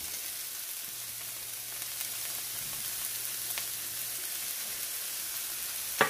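Vegetables for a ratatouille-style tchaktchouka sizzle softly in a pan while being stirred, a low continuous hiss with a faint scrape now and then and a small clink near the end.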